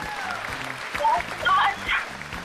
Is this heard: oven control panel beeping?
no